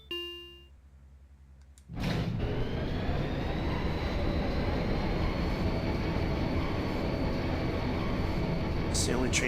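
A train in the Final Fantasy VIII video game: after a quiet moment with soft tones, a loud, steady rumbling roar starts up and continues without a break.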